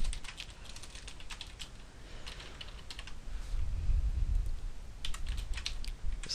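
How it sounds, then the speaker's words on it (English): Typing on a computer keyboard while working through .NET deobfuscation: steady clusters of close, crisp key clicks in irregular bursts, with a low rumble swelling briefly in the middle, no voices. "Just need to type zero there"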